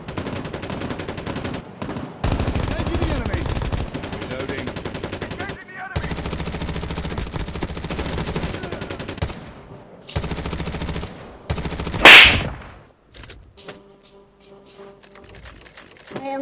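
Rapid bursts of automatic gunfire from the video game Call of Duty, several long volleys separated by short gaps, with a sharp blast near the end.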